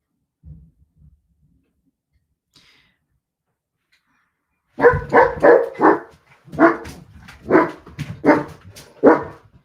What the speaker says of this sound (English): The dog's about to bark.